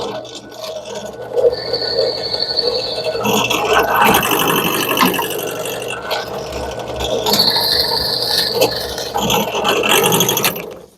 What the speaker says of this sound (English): first of all I want to drill a hole to make sure my dowel fits.